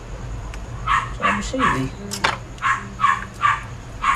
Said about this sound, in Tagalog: Aso naman kasi.